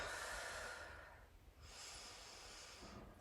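Slow, audible breathing during a yoga flow: a long airy exhale followed by a slower inhale, soft and close, with no talking.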